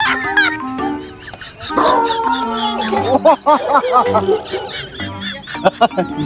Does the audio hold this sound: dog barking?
yes